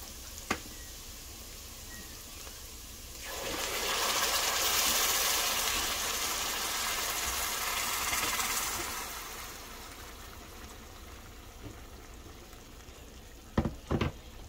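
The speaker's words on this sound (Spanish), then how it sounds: "Mire, ya está la cebolla bien guisadita. Vamos a agregar la salsa que aquí está ya." Tomato sauce poured into a pan of fried onion makes a loud, broad sizzle that swells for several seconds and then settles. A few sharp utensil clicks come before and after.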